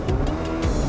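Motor vehicle engine revving as the throttle is opened, a brief, loud, rough growl with pulsing rhythm, close by and lasting under a second.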